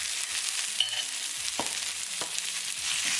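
Potatoes frying in olive oil and melted unsalted butter in a wok over a gas flame, a steady close sizzle with a few sharp scrapes and knocks as they are stirred, no talking.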